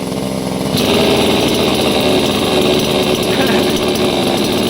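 An AL-KO BKS 2625 T one-handed petrol mini chainsaw runs loud and close, its engine buzz jumping up sharply under throttle and then holding a steady, continuous snarl.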